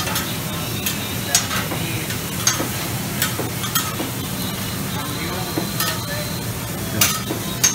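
Food stir-fries on a Mongolian barbecue griddle, a steady sizzle broken by repeated sharp metallic scrapes and clanks of spatulas against the hot surface, close by and without speech.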